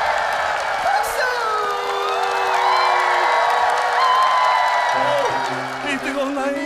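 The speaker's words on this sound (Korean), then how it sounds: "박수." Children in a studio audience cheer and whoop at a kids' variety show, with bright shouting voices rising and falling over several seconds and a burst of excited yells near the end.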